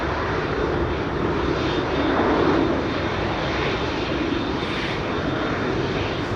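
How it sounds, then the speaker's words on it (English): A KLM Boeing 787 airliner at Amsterdam Schiphol Airport during Storm Amy gives off a steady, loud, broad engine roar that holds even throughout, with no voices over it. "And here's the 787. Now this is KLM flight 749, which will be leaving for Bogota"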